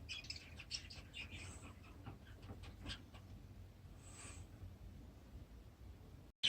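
Budgie chicks in a nest box give faint, rapid, raspy begging chirps in clustered bursts over low background hiss, fading in and out across several seconds.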